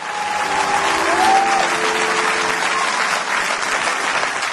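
A church congregation applauds and cheers together, a steady wash of clapping that holds at a fairly even loudness throughout, with faint voices mixed in.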